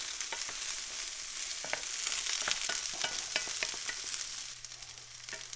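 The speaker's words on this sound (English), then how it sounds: "But just keep the meatballs stirring." Beef meatballs frying in bacon fat in a pan, a continuous soft sizzle broken by repeated scraping clicks as they are stirred, with no talking.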